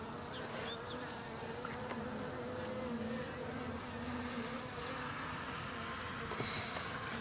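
Japanese honey bees buzz inside their hive, a dense, continuous drone with steady pitch, close and enveloping, no voices.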